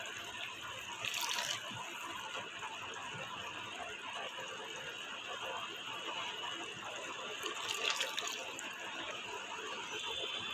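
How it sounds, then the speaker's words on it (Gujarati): Sugar syrup with rasgulla boiling in a pot, a continuous bubbling and hissing simmer heard up close, with a couple of brief louder gushes along the way. "આ પાછી ઉકળવા માંડી છે"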